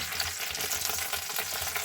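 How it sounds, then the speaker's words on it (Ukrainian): Chicken legs being browned in a hot frying pan, a steady close sizzle and crackle of hot fat, continuous and moderately quiet, with no talking. "і присмажую зі всіх сторін до золотистого кольору. перевертаю їх час від часу."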